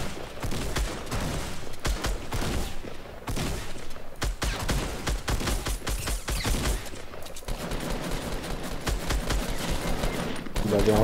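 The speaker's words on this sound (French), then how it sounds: "Il avait un fusil à pompe." Dense, continuous gunfire from a Fortnite match, with a pump shotgun among the weapons, rattling loudly through the whole stretch with rapid bursts and heavy blasts, while players talk over it.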